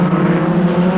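A Formula Ford 2000 race car engine at Mondello Park, from the 1982 European championship, drones steadily and loudly through the full second as the car pulls away, with no break in the tone.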